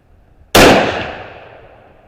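Single rifle shot from a Howa 1500 action with a Preferred Barrel Blanks prefit stainless barrel, 1:8 twist, in an MDT chassis: one sharp, loud report with a ringing decay, no talk.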